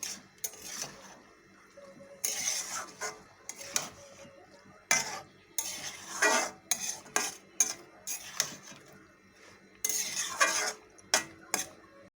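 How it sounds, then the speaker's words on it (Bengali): A utensil gently stirs small fish curry with purol in a pan, producing intermittent clinks and scrapes against the metal in short bursts separated by quiet pauses. "বেশি নাড়া করবো না হালকা হাতে নেড়ে করে ঢেকে রেখে দেবো"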